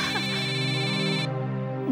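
A mobile phone rings with a loud, steady electronic tone over a low background hum. The higher part of the ringtone cuts off partway through.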